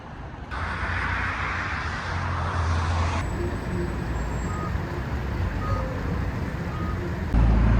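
Steady city road noise fills a Koreatown street in Los Angeles, a continuous wash of passing cars and buses at moderate distance, with a faint high whine briefly overhead and the hum rising at the end.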